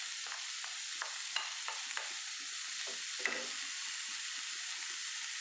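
Spinach thoran sizzles in the pan as grated coconut is added and stirred in, a steady hiss under clear spoon scrapes and taps near the microphone; no one speaks.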